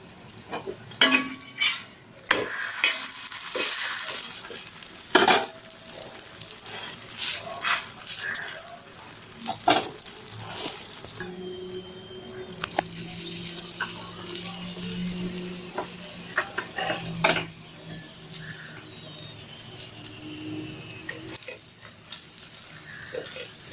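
Madurai-style bun parotta frying in oil on a flat pan, a street-food dish: a continuous, fairly loud sizzle broken by sharp clinks and scrapes of a metal utensil against the pan, without speech.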